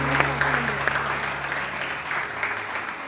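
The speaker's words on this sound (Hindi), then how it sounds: "तालियां" A studio audience applauds on a televised morning show, a steady crowd clapping throughout with no talk.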